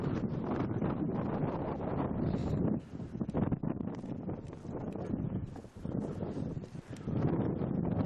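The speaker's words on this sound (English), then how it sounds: "It's windy down here." Strong wind buffets the microphone in heavy gusts, roaring and rumbling throughout, easing briefly in a couple of spots before returning full force.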